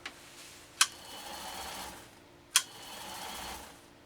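A sewing machine motor runs steadily under pressure from its foot controller, with two sharp mechanical clicks breaking the hum, heard close up with no talk.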